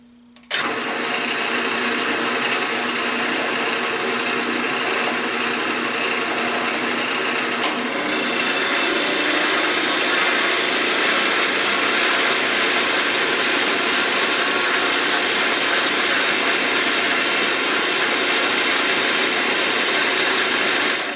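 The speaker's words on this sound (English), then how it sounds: "I'll apply a small amount of Yorkshire grit just onto the ferrule by hand, and then turn that slow speed" Copper ferrule on a woodturning lathe spinning at slow speed while being polished with Yorkshire grit applied by hand, a steady continuous whirring hum with friction hiss, close and loud throughout, no talking.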